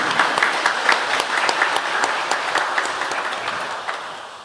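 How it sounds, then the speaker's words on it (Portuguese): A church congregation at a men's rosary gathering claps after the Gospel reading, a few seconds of brisk, moderately loud applause from a modest crowd that tapers off toward the end. "Podem aplaudir a palavra do Senhor."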